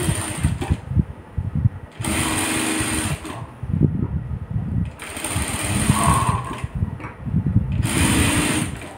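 Sewing machine stitching a blouse with piping, running in bursts of steady motor whirr with short pauses between, close and loud.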